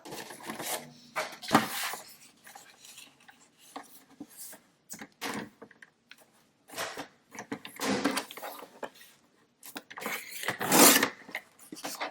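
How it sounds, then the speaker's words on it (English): Scissors or a trimmer cutting straight lines through letter-size 8.5x11 paper, a series of close, short rasping snips and slides with quiet gaps between strokes, with no speech. "I'm just going to cut a straight line here and a straight line down"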